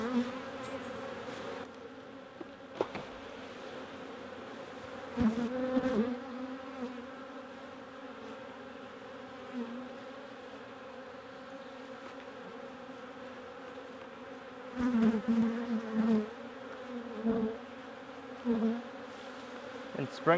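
A dense, steady drone of many honeybees buzzing around a hive, with occasional louder bees passing close by.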